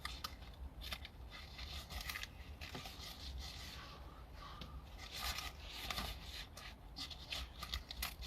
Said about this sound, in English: So we're just going to cut under the seam.